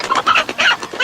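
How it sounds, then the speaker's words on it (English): A rooster clucks close and loud, a quick run of sharp, choppy clucks in uneven bursts with no voices over them. "Stop that rooster."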